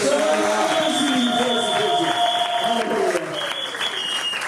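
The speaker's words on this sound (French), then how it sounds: "Est-ce que nous pouvons encore acclamer très fort?" A church congregation at a wedding applauding and cheering loudly, dense sustained clapping with voices rising through it, fading slightly toward the end.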